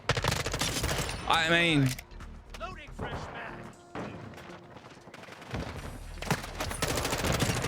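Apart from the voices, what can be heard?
M4 gunfire in Call of Duty video game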